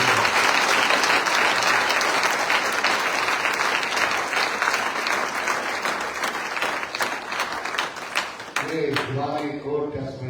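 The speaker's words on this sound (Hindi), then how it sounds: "एक जोरदार ताली को मार दो" A church congregation at a Sunday service breaks into loud, sustained applause lasting about eight seconds, then the clapping thins and fades as a voice begins speaking over the tail end.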